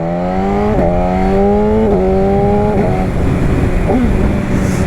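A BMW S1000RR HP4 superbike accelerates hard with its engine note climbing, then drops sharply at each quickshifter gear change, with about three quick upshifts in a row before the revs settle near the end.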